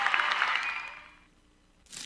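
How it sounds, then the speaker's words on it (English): Downy Unstoppables scent beads pour into a washing machine with a bright, granular rattling cascade that fades away after about a second, followed by a short burst of noise. "That's the sound of Downy Unstoppable scent beads going into your washing machine"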